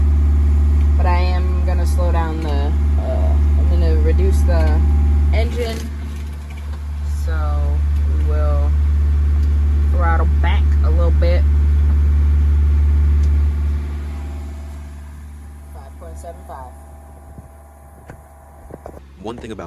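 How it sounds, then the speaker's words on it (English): Sailboat engine running under motor on a Florida trip, a loud low steady drone that eases off and falls away near the end, with someone talking over it throughout. "I'm gonna reduce the engine"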